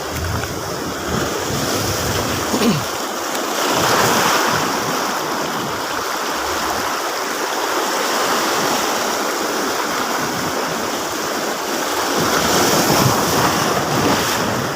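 Ocean surf rolls and crashes continuously on a beach shore at Sual, loud and close, with strong waves and steady wind rushing across the microphone throughout.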